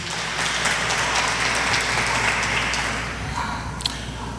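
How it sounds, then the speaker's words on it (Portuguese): A church congregation breaks into dense, steady applause, a soft rain-like wash of clapping that runs evenly and eases slightly toward the end. "dê uma salva de palmas para o Senhor Jesus"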